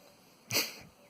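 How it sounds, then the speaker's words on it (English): A single short sneeze from a man, muffled and distant as if coming from upstairs, rises out of a quiet room. "Husband sneezing up there."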